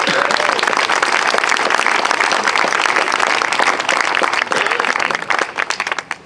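Outdoor crowd applauding at a statue dedication ceremony, a loud, dense burst of many hands clapping that holds steady for several seconds before thinning out into scattered claps at the end.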